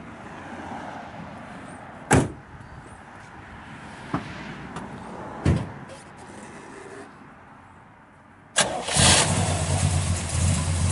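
A built 396 V8 with a Holley four-barrel carburetor in a 1966 Chevrolet Chevelle SS with a four-speed cranks with a few sharp clunks, then fires up into a loud, rough idle near the end.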